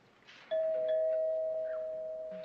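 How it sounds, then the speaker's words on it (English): A single doorbell chime rings out clearly, a sustained bright tone that lingers and slowly fades over a quiet room. "That's the doorbell."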